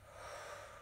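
A held breath is released in one soft, steady exhale during a Turkish-guided breathing meditation for health, faint and close with no talk over it.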